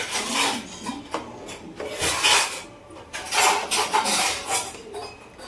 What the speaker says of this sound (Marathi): ह्याला हलवून घ्यायचं बघा सारखं